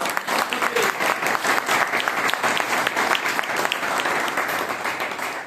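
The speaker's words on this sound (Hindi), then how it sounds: "सबके लिए एक बार जोरदार तालियां" Loud, dense applause from a seminar audience at a business training session, steady crowded clapping sustained throughout without a break.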